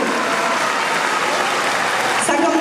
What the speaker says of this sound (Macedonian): Еден огромен аплауз за сите 4 дечиња кои што настапија до сега.